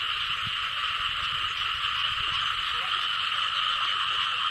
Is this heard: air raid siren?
no